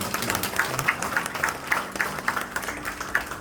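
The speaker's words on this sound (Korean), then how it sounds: "큰 박수로 함께 다시 한번 축하드리기 바랍니다." Audience applause at an award ceremony and book launch, a steady patter of many hands clapping together with regular sharp peaks, fairly loud and with no talk over it.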